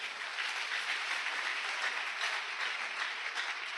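A church congregation applauds in a steady, even wash of clapping that holds at a moderate distance without breaks, with no one speaking over it.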